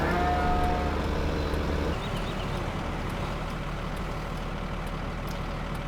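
Cattle moo in the Farming Simulator 15 video game as cows head off to market, with a sustained low moo heard over a constant rumble of truck engines and farm machinery.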